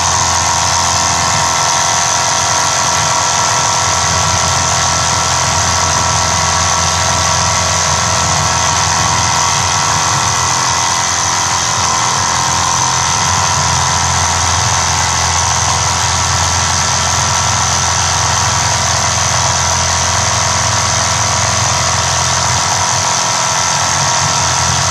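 A small Mamod Brooklands Roadster model steam engine runs steadily with a continuous whirring, hissing hum that holds unchanged and loud throughout.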